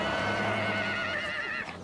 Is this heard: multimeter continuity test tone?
no